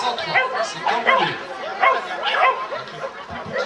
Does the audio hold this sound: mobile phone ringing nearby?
no